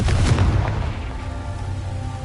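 A Confringo fire blast spell explodes in the Hogwarts Legacy video game, a single deep boom with a rumbling tail that fades over about two seconds.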